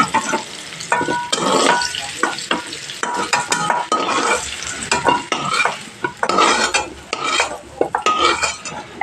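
Potato pieces fried with turmeric in a pan are stirred hard and often. Loud, close scraping and clattering of a utensil against the pan rises and falls over a constant sizzle.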